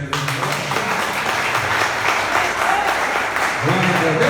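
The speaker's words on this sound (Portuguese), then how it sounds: "Você pode aplaudir o Senhor?" Church congregation applauding during a Portuguese-language worship service, a steady wash of clapping throughout, with a voice and vocal tones rising over it near the end.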